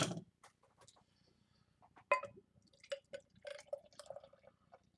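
Founders Velvet Rush, a brown beer, is poured into a glass, with a soft splash at the start followed by faint, irregular gurgles and drips, quiet and close.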